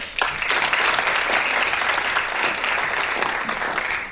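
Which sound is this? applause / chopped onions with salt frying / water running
applause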